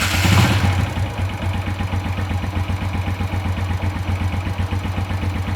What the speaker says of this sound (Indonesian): Kita pasang cangklong busi, kita starter motornya.